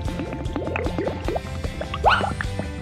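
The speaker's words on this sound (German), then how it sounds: "Jetzt müssen wir die Mischung nur noch in die Eisform gießen." Cream ice mixture is poured into a popsicle mould, giving a run of close wet drips, splashes and gurgles with small squishy knocks, one louder liquid splash near the end.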